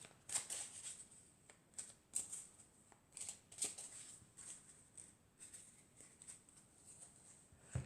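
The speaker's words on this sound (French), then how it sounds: "on va prendre encore une dernière carte" Tarot cards shuffled and drawn from a deck, giving soft, papery riffling and sliding with occasional sharper flicks, close and fairly quiet, continuing steadily with no speech.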